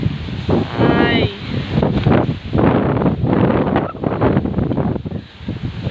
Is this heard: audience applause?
no